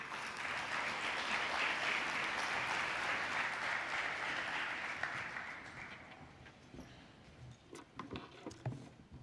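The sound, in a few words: audience applause welcoming panel speaker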